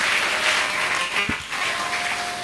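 Congregation at a wedding blessing applauding steadily, a dense wash of clapping and cheering that fills the whole moment at an even, loud level.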